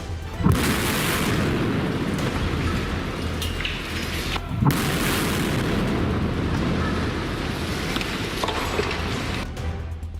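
Demolition of an old structure built in 1984, carried out by German engineers: deep booming blasts near the start and again midway, followed by a sustained, rumbling roar of collapse that stays loud throughout.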